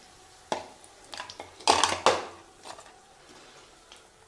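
Metal utensil clinking and scraping against a frying pan while fried chilli bajji, made from home-grown bajji chillies, is lifted out of the oil: a few sharp knocks, louder in the middle, then quieter taps.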